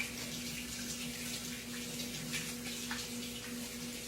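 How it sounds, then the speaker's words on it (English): Steady running tap water at a kitchen sink while hands are washed during cooking, a faint continuous hiss with slight splashing variations and a low hum underneath. "All right, I'm going to wash my hands now"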